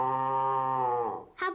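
A cartoon dog imitates a cow, giving one long, steady, loud moo-like call that fades out, followed by a brief sharper vocal sound.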